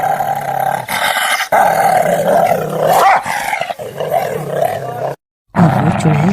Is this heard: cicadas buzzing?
no